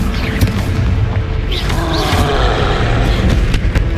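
A Confringo spell blast in Hogwarts Legacy, a dense, loud rumbling explosion with crackling debris and whooshing effects that stays sustained throughout, with no clear speech.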